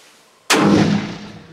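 A single loud, close rifle shot at a deer during a hunt cracks suddenly after a brief quiet, then rolls away in a long echoing decay.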